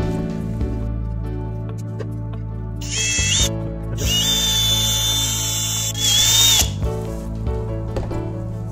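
A power drill bores holes for bat pins in a metal Vevor pottery wheel, whining in several loud, close bursts separated by brief pauses, with the motor pitch rising as each burst spins up.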